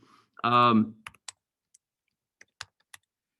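Computer keyboard typing to write a message in a chat, a handful of sparse, distinct key clicks spread out after a brief spoken utterance, close and quiet.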